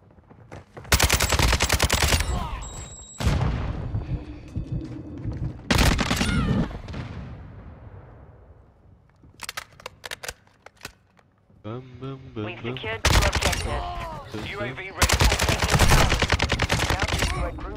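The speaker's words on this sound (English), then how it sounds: "I'm gonna start using SMG." SMG fire in a first-person shooter game comes in long rapid bursts of automatic shots, loud and dense, broken by short gaps, with a player talking over parts of it.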